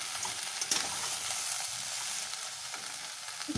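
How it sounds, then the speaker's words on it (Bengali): Vegetables frying in a pan for shukto, a Bengali mixed-vegetable dish, stirred steadily after salting, giving a continuous close sizzle with scraping stir noises and one sharper clatter near the end. "ভালো করে নাড়িয়ে চাড়িয়ে নেব।"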